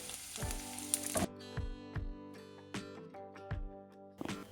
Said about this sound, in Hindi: अच्छे से इसको भून लेंगे और फिर इसमें डालेंगे 3 से 4 हरी मिर्च